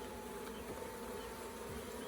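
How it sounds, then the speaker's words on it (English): Honeybees buzzing on a hive frame pulled during a winter hive cleanup, a steady, close, continuous drone with no pauses. "Bees on that one."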